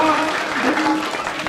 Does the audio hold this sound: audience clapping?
yes